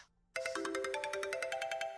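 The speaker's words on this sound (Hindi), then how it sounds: "फायजा आपी का फोन है।" An incoming-call phone ringtone starts suddenly after a quiet moment and repeats a bright, pulsing electronic melody at a steady rhythm, loud and close with no voices.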